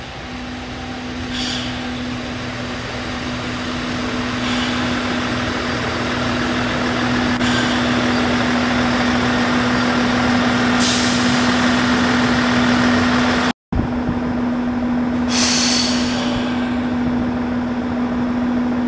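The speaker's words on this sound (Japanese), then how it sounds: "まもなく列車が参ります。" A steady rumbling drone of a train arriving at Sohara Station, Japan, with a constant low hum, occasional hissing bursts of air brakes, and a brief cut near the end.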